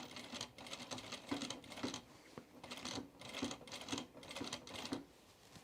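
A sewing machine with a stout needle stitches a thick blazer in short bursts, a close rhythmic mechanical whirring and clatter that starts, pauses and resumes several times, fairly quiet.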